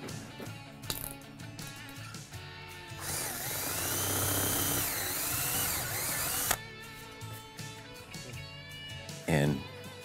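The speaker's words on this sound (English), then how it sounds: "So now we'll need to enlarge those holes." A power drill whines loudly for several seconds, boring into wood to enlarge holes during a barn door installation. Softer handling clatter comes before and after, with brief speech near the end.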